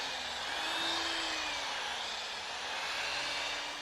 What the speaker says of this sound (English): I just use a very coarse 60 grit sandpaper on the sanding pad